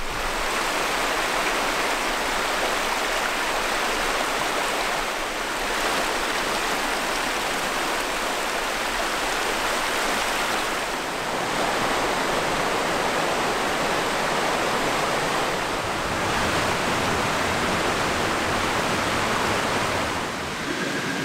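A river rushes beside a tent pitched on a bend near a road on a Japan thru-hike, a loud continuous wash of flowing water with no pauses and no voices.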